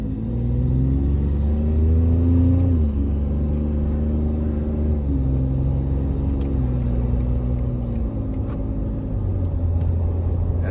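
A steady, muffled engine drone heard from inside the cab of a 2020 Ford F-150 2.7 EcoBoost pickup with an AWE 0FG exhaust, rising briefly then settling into an even low rumble while cruising.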